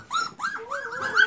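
Puppies whimper and yelp in a continuous run of high, wavering cries, close and loud with no pauses, as they try to climb onto a couch where their mother once nursed them.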